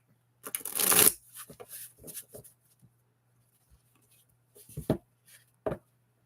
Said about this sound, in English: So the reason I like to shuffle at least 7 times